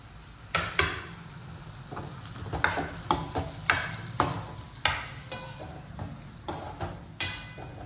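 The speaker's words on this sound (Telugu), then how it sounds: "బంగాళదుంపలు వేస్తున్నాను ఫ్రెండ్స్." Potatoes frying and being stirred in a pan, with a soft steady sizzle underneath and a series of sharp spoon-against-pan scrapes and knocks at irregular intervals, close and moderately loud, no talking.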